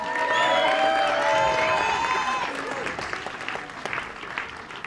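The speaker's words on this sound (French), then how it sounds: "On peut l'applaudir." Audience applause at an evening disc-golf event welcoming a referee, dense and fairly loud at first, then thinning toward the end, with some cheering and voices mixed in.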